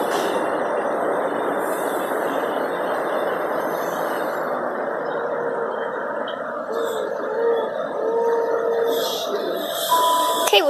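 A train passes through Tiverton Parkway railway station with a loud sustained rolling roar of wheels on track, with brief squealing tones rising near the end as it goes by close at hand.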